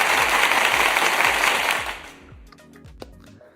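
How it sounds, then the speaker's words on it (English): Applause sound effect on a live futures trading stream: a dense burst of clapping and cheering for about two seconds, then it cuts off abruptly into quiet with a few faint clicks. "Here, we got applause."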